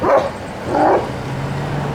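A dog named Brogan barks twice, close and fairly loud, in a neighbourhood during a search-and-rescue preparation after a storm, the two barks separated by a short pause with a low hum continuing after.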